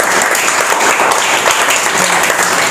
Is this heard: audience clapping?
yes